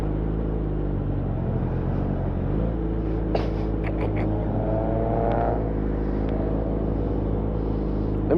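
Yamaha FZ1 motorcycle ridden on the road, a steady close engine drone with rising revs and passing traffic, continuous throughout without talk.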